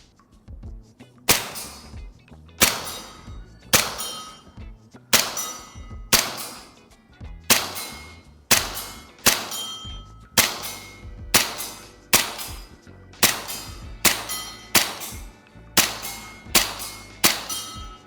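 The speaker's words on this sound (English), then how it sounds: "Let's do a few more test shots on the orange target." An airsoft gas blowback 1911 pistol fires BBs at an orange target, about fifteen sharp, evenly spaced cracks, each ringing with a metallic clang that decays before the next shot, close and loud.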